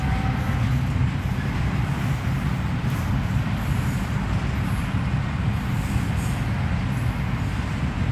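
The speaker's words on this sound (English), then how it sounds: "the trains going by in the background" A continuous low rumble of a train rolling past near Stones River National Cemetery in Murfreesboro, Tennessee, on Memorial Day, steady and fairly loud throughout, with no voices.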